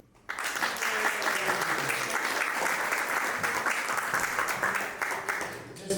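An audience at a Miami Beach commissioners forum breaks into clapping after a speaker finishes, a sudden, sustained burst of applause from many hands that stays full and steady before easing slightly at the end.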